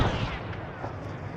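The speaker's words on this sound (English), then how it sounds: "Rocket, rocket, rocket." A rocket explodes in the military video game Arma 3, a single heavy boom with a deep low-end rumble that decays over about a second, loud and close.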